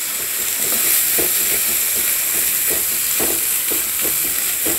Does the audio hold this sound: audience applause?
no